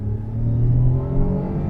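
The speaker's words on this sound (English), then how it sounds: "hard not to thrash an engine when it sounds that good." Daihatsu car with an oil-smoking engine, revving with a low rumbling, steady engine drone that rises slightly mid-clip, close and fairly loud, no speech.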